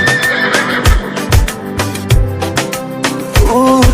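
A horse whinnies loudly, its call wavering up and down, over a steady run of rhythmic thumping beats.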